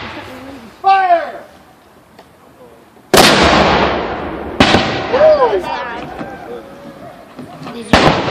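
In a war video game set in 1835, musket volleys fire from a fort, with loud booming cracks that trail off into rumble, spaced a few seconds apart, mixed with shouted commands and voices.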